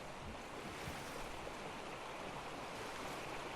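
A waterfall in the survival game ARK on the Ragnarok map gives a steady, full rushing roar of falling water with no voices over it.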